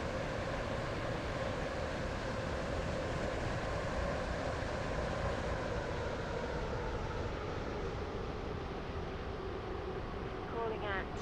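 A two-coach passenger train runs with a steady, loud rumble and rail noise, continuous and even throughout, with a muffled announcement voice in the background.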